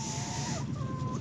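Backyard farm chickens clucking in a low, steady murmur, a few soft calls rising from the flock at close range with no talking.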